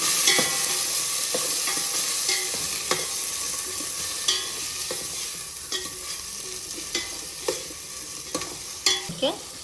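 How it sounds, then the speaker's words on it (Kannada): Tomatoes and green chillies fry in a pan for okra sambar, a steady close sizzle broken by repeated scrapes and taps of a stirring spoon at an irregular rhythm. "ಈಗ 2 ಟೊಮೊಟೊ ಹಾಕ್ತಾ ಇದ್ದೀನಿ. ಹಸಿಮೆಣಸಿಕಾಯಿ ಹಾಕ್ತಾ ಇದ್ದೀನಿ. ಇದನ್ನು ಈಗ ಫ್ರೈ ಮಾಡೋಣ."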